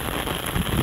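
Steady rain pours down outdoors over a rural farm lot and pastureland, a dense, continuous hiss with no voices, growing slightly heavier toward the end.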